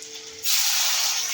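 Tomatoes dropped into a hot pan with garlic and green chillies burst into a loud, sudden hiss that holds steady after a quieter moment.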